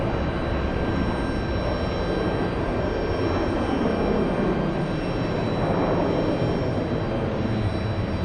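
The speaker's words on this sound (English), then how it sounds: "We have the 767 taxiing to the gate." A Boeing 767 jet airliner arriving from Copenhagen taxis to the gate at JFK airport, a steady low engine rumble with a faint whine that holds constant and fairly close throughout.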